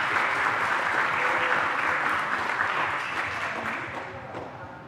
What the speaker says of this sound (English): A big applause for the post office.